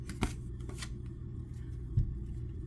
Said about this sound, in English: I'll probably find them faster if I just let them shuffle out.